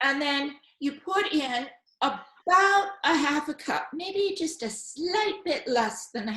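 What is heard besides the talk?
None of the usual background noises is heard.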